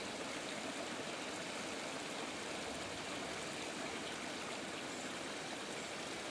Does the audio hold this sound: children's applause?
no